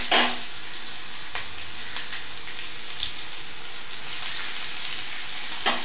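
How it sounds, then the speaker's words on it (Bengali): Potatoes, carrots, capsicum, green chilli and ginger frying in a pan for vegetarian chow mein, a continuous close hiss of sizzling oil with a couple of brief clinks of a utensil. "আলু, গাজর, ক্যাপসিকাম, কাঁচা লঙ্কা, আদা ভালো করে ভেজে নিয়ে"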